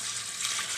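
Water is poured into a cooking pot holding tomatoes while rice is being cooked for chicken pulao, a short, steady, close splashing rush.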